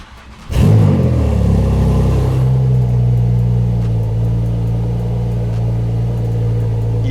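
A car engine cold-starts, cranking and firing with a loud burst, then settles into a steady, deep rumbling idle, close and loud.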